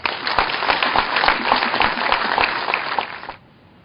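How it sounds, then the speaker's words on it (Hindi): Audience applause at a spiritual meditation gathering, a loud burst of close, dense clapping that holds steady for about three seconds and then cuts off abruptly. "तो आज के लिए, ध्यान के लिए जोरदार से तालियां बजाएंगे."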